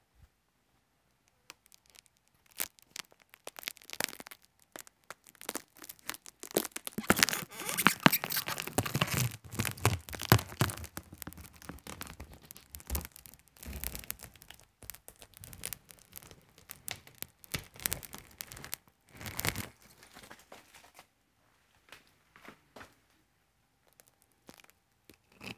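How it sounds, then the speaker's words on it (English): Protective plastic film is peeled off a BMW F33 taillight in close, crackly tearing and crinkling bursts that come in irregular runs, loudest in the middle and thinning toward the end, with no talking. "Let's do a little bit of plastic peeling ASMR."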